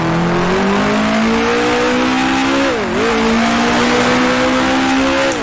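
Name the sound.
racing cars on track in video game Grand Prix Legends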